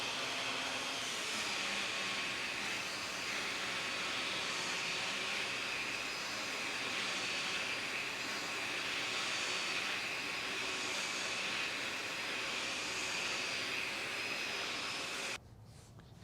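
A Miele TurboTeQ STB 305-3 turbo brush on a vacuum whirs on carpet in a loud, steady airy drone that holds for most of the time, then drops off sharply near the end.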